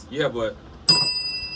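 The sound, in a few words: bell ringing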